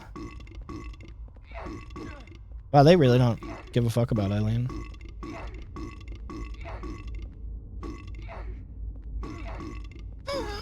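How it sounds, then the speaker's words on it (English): Loud, deep, drawn-out burps from a person playing Silent Hill 4: The Room, two long gurgling belches in the middle, surrounded by chatter, with a voice speaking over game sounds before and after. "I held in my burps for you"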